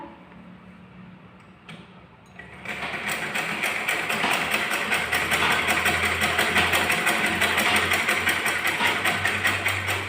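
An electric sewing machine runs a double line of stitching on a simple 30-inch blouse, starting quietly and then running at a fast, even, rattling pace close by, with no talk.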